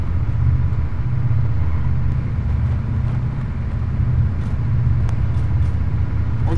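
A steady, loud engine rumble with low road noise from a vehicle driving in the military game ArmA 3, continuing unbroken with faint clicks on top.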